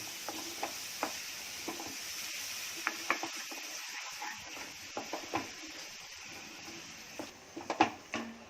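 Lahori chickpea masala with yogurt stir-fried over a low gas flame, a soft, faint sizzle with intermittent spatula taps and scrapes against the pot.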